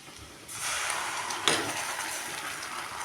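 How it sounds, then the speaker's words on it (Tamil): Ground tomato puree poured into a pan of golden fried onions, a wet broadband rush that begins abruptly and holds steady for a few seconds, with one sharp clink partway through. "நம்ம இந்த தக்காளியை இதில் ஊற்றிக்கலாங்க."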